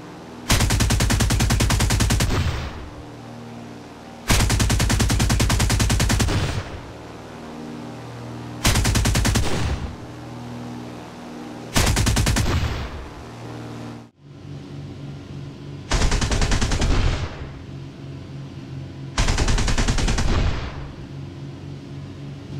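Aircraft motor cannon from an American plane in War Thunder fires in six loud, sustained bursts of rapid heavy shots, each lasting one to three seconds, with pauses of steady engine drone between them.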